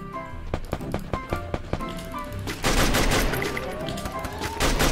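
M249 machine gun firing in the Garena Free Fire mobile game: a few separate sharp shots at first, then a dense, loud sustained burst of rapid automatic fire with no voices.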